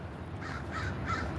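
Crows give three evenly spaced caws at a moderate distance, rasping calls over a faint outdoor background.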